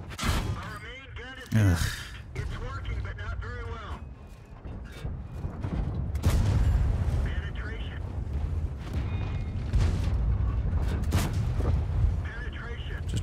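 Tank cannon fire in World of Tanks, several heavy booming shots with rumbling tails amid engine and battle noise, a voice briefly grunting and talking over the action.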